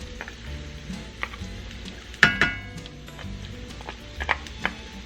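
Grated garlic sizzles in a pan as pork chops are prepared with honey garlic sauce, giving a soft steady crackle with a few sharper clinks of a utensil against the pan.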